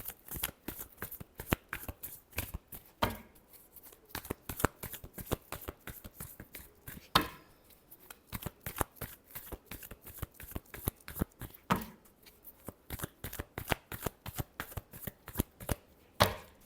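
Tarot cards are shuffled by hand in a steady run of crisp riffling flicks, close and fairly quiet, with short pauses and no talking.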